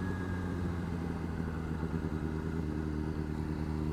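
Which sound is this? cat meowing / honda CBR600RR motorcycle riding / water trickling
honda CBR600RR motorcycle riding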